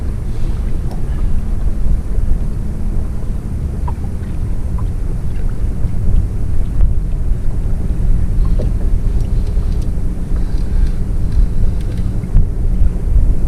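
A motorboat passes by, its engine droning steadily on Lake Murray, with wind buffeting the microphone throughout and no voices.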